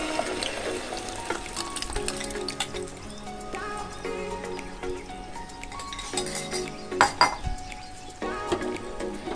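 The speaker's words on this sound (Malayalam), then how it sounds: "നെയ്യ് ചൂടായതിന് ശേഷം നമുക്ക് ഈ മിക്സ് ഇതിലേക്ക് ഒഴിച്ചു കൊടുക്കാം." Batter for kayi pola, a Malayalam banana dish, poured into hot ghee in a pan crackles and sizzles in uneven bursts, mixed with clinks of utensils against the vessel.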